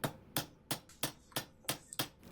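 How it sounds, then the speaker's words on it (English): Aluminum rivets being set to fix a motor badge onto the trim ring of an 80-year-old Sears bench grinder, heard as seven sharp, evenly spaced close-up strikes with no talk. "I riveted the motor badge back onto the trim ring using some aluminum rivets"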